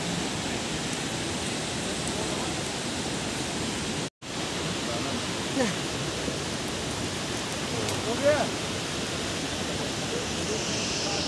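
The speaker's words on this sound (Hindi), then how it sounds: "बहता हुआ शादाब नज़ारे, आबशर के झरने जो हैं वो किस तरीके से हम दिखा रहे हैं आपको" A waterfall rushes in the Kuligarh area of the Kishtwar valley, a steady broadband roar of falling water that fills the scene evenly, with a brief dropout partway through.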